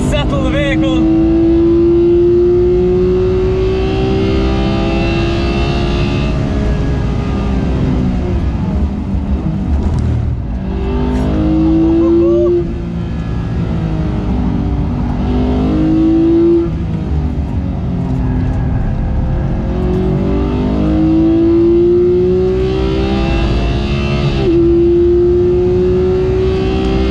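A Porsche 991 GT3's engine revs hard while driven, with loud rising and falling tones climbing through the rev range and dropping at shifts, running continuously under someone talking.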